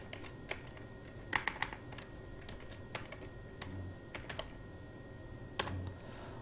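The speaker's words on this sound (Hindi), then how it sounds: "यहाँ पर हम टाइप कर लेते हैं कि वीकेंड" Keys clack on a computer keyboard as a word is typed into an Excel spreadsheet, producing quiet, irregular taps with a few slightly louder strokes over a steady low background hum.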